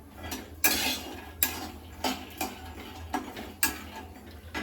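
Peanuts being dry roasted in a pan give quiet, close scraping and rattling clinks in irregular bursts, as if stirred, with soft gaps between them.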